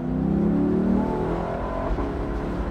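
A Lexus engine revving hard as the car accelerates, a loud rising drone that peaks early then eases into a steadier, lower hum, close and with no talk.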